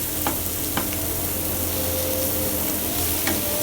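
Brinjal (eggplant) with masala sautés in a pan, giving a loud, close, continuous sizzle with a few stirring scrapes and taps.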